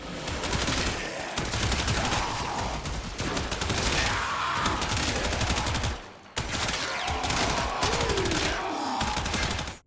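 In the Warframe video game, the Incarnon Soma Prime rifle fires in loud, dense, rapid automatic bursts that run almost continuously, with one brief pause midway. No voices are heard.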